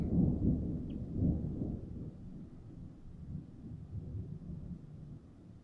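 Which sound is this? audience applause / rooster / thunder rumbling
thunder rumbling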